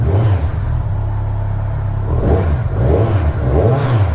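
A 2023 Kawasaki Z1000R Edition motorcycle engine revs close by, a deep rumbling idle broken by a series of rising throttle blips.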